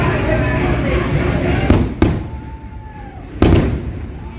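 Fireworks bursting overhead at a Disney Halloween party, three sharp loud booms over a steady crowd murmur, with a faint whistling rise between blasts.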